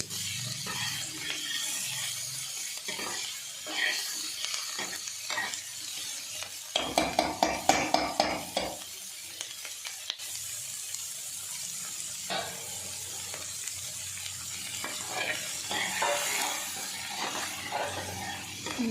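Onions frying lightly in a little oil for a taro root (arbi) curry, a soft steady sizzle with a burst of rapid scraping stirs midway, close and fairly quiet, no talk.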